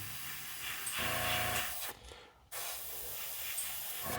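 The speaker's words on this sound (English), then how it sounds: "You can hear my air compressor working." A steady airbrush hiss with an air compressor humming underneath, painting a 1:350 scale USS Enterprise model, briefly dropping out for a moment midway before resuming.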